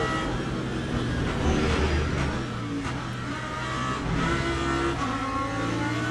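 Lamborghini race car engine in the Le Mans Ultimate racing game, a steady, close drone with shifting revs and faint tire noise, sustained throughout without a break.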